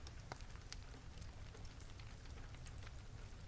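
Steady rain patters softly on a surface throughout, a continuous hiss with scattered faint droplet ticks behind a bedtime story reading.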